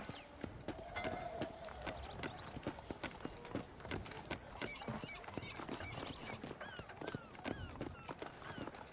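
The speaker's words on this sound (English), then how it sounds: "You see those horses to the left by the building across the street?" Horses clip-clop steadily across a street in the Red Dead Redemption video game, a dense patter of hooves at moderate distance with faint ambient game sounds beneath.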